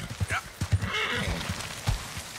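A horse neighs and whinnies in Red Dead Redemption 2 while struggling on steep mountain ground, with a few hoof clops between loud, close whinny bursts.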